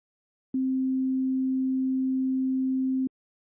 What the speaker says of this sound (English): So here we just have a simple sine wave.